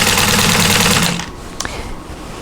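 A 1947 Singer 15-90 vintage sewing machine stitches a quilt with a loud, close mechanical whir that runs for about a second and then stops. A faint click and some quiet handling follow.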